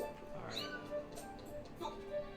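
A small koala-like cat creature in Skyward Sword meows softly in a few short, high calls over quiet game background sound, with a voice talking alongside.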